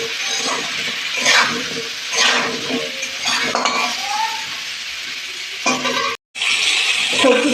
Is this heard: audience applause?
no